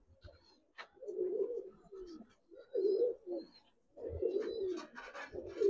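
Giribaz and coloured pigeons cooing close by, soft low throaty coos coming in repeated bursts with short pauses, plus a few faint higher chirps in a quiet setting.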